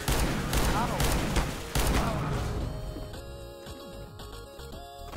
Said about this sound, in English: Кто стрелял-то, блядь?